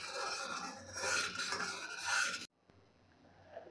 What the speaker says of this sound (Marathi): अजून 3 ते 4 मिनिटे आपल्याला हे सतत ढवळत राहायचं आहे